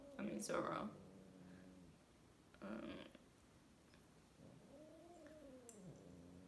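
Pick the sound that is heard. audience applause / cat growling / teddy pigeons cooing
cat growling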